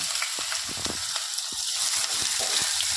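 Chopped spinach fries in a spice tempering with a close, steady sizzle punctuated by repeated soft stirring knocks.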